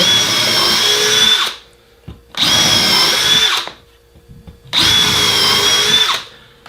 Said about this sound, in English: Pre-drill.